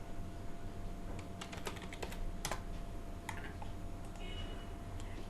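Typing on a computer keyboard produces a quick cluster of light clicks, then a few sparse taps, quiet and near against a faint background hum.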